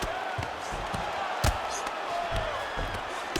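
A UFC 5 video game arena crowd murmurs and reacts during a simulated fight between Merab Dvalishvili and Alexandre Pantoja, a steady background roar broken by thuds and a louder burst of noise.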